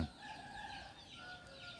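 Laying hens on a mixed farm giving a short, faint drawn-out clucking call, heard alone against quiet outdoor background.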